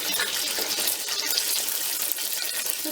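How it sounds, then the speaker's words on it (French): Spring rolls (nems) frying in a home deep fryer, a dense continuous hiss and crackle of hot oil, close and steady with no speech. "je prends mes nems, je pose dans ma friteuse"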